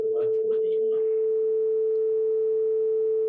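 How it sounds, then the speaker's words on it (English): A steady 440 Hz sine wave test tone plays as a clean, continuous pure pitch, with a brief burst of faint noise at the start before the tone sounds alone. "What you're hearing is a 440 Hz sine wave."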